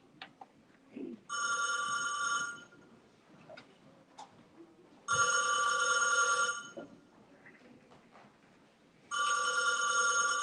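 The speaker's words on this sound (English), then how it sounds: "Answer the phone, Donald." A telephone bell rings in three long bursts with pauses between, fairly close, over a quiet room with faint clicks and rustles.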